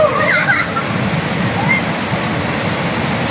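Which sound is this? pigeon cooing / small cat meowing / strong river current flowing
strong river current flowing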